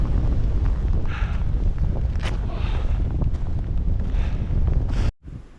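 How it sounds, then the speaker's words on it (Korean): Strong wind roars and buffets the microphone near-continuously on the snow-covered summit of Taebaeksan mountain in winter, with loud low gusts that drop off abruptly near the end. "미쳤다 이 바람."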